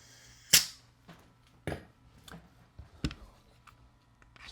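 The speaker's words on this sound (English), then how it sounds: "Let's go ahead and test it out, fire off some shots." A Jefe TP22 propane-powered airsoft pistol fires several sharp snapping shots, one strong crack followed by softer irregular pops and clicks at close range in a quiet room.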